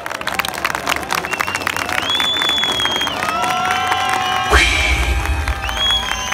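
An audience cheers, whoops and claps for a dance group at a 2023 competition, a lively crowd din with shouted voices that swells into a louder burst partway through.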